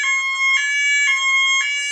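A smoke alarm sounds in repeated shrill electronic beeps, loud and close, pulsing in a steady rhythm with no talking.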